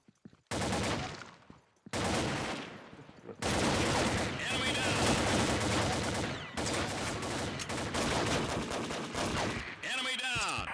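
Bursts of rapid gunfire from a team shooter video game come in dense, loud volleys separated by brief gaps, with game sounds and voices mixed in.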